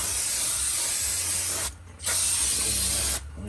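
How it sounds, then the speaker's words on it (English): Aerosol brake cleaner sprayed onto the front brake parts of a 2011 GMC Terrain, two long loud hissing bursts separated by a short pause, with a third spray starting at the end. "See all this crap on there? Spray all that off."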